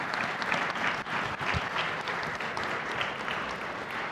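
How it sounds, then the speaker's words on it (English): An audience at a tech startup conference clapping, a sustained round of dense applause from a large crowd in a hall, steady and fairly loud for a few seconds. "ladies and gentlemen, a hand of applause for the fine moment"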